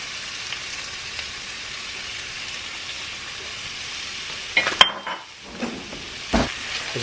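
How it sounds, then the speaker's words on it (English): Vegetables sizzle steadily in a hot cast iron pot, with a few sharp metallic clinks and scrapes of stirring toward the end. "so you can hear the sizzle."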